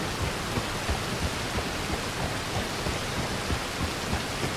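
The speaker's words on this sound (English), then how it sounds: "Man, I can't see anything with that rain." Steady heavy rain pours down in a continuous dense hiss with low rumbling undertones, loud and even throughout with no voices.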